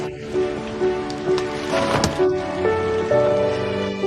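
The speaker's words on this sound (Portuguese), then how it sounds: "Mãe, está chovendo." Rain falling, a soft continuous patter under faint background tones, fairly quiet with a few louder drops.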